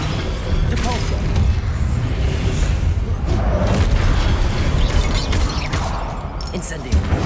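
Spell blasts from Hogwarts Legacy, Descendo slams and Depulso force pushes, rolling into a continuous loud mix of booms, crashes and rumbling impacts, with a voice shouting spell names over the top.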